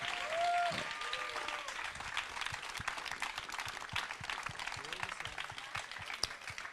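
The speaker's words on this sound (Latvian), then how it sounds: "Tāpēc teiksim tev lielu paldies ar skaļiem aplausiem" Audience applause at an evening talk event, a steady wash of clapping from a crowd holding for several seconds at moderate level, with a brief voice early on.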